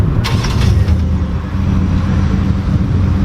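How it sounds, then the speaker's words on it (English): Low, steady rumble of a 2018 Ford F-150 XLT's 5-liter V8 fitted with an aftermarket exhaust, idling close by with a deep, even drone. "This has got the V8 5-liter, and it does have an exhaust on it."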